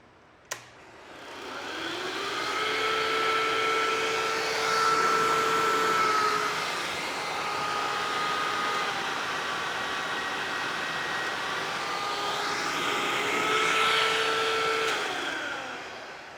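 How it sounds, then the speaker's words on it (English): A household vacuum cleaner powered from a small solar PV setup with Enphase microinverters starts with a click and runs steadily for about fifteen seconds, its motor whine wavering slightly in pitch, alone and moderately loud. "you saw that it was able to turn on the vacuum cleaner, handle the inrush"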